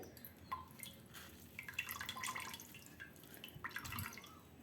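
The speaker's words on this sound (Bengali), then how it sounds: "তো এবার চিপে চিপে ছানার জলটা একটু বের করে নিতে হবে।" Water drips and trickles faintly from chhana curds as they are squeezed by hand to drain the whey for homemade rasmalai, in irregular, soft splashes with no talking.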